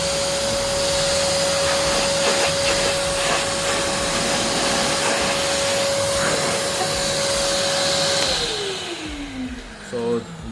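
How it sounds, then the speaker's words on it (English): An AmazonBasics wet and dry vacuum cleaner runs in blower mode with a loud, steady whine and a sustained motor tone. Near the end it winds down and the pitch falls. "Now this is blowing."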